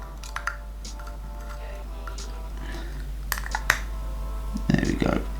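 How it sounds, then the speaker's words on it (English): A plastic part of a DIY thermal detonator prop kit being clicked and locked into place during assembly, giving a few sharp snaps and small rattling clicks, with a louder cluster near the end. "you can hear that noise of it clicking in"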